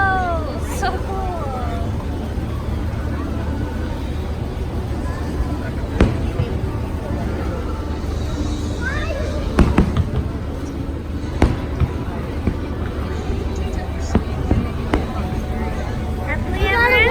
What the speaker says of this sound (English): there goes the fireworks